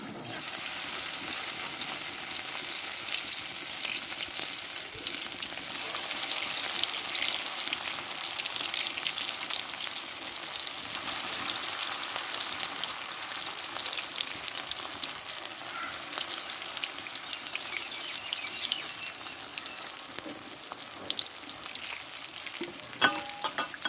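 Steady frying sizzle of egg patties in hot oil, continuous and fairly loud throughout, with occasional faint clinks near the end.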